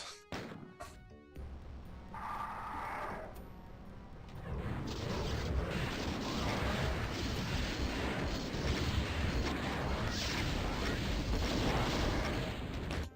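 Chaingunner enemies fire in classic Doom amid the game's din: dense, rapid gunfire and crunching impacts build from about four seconds and keep up loudly and steadily to the end.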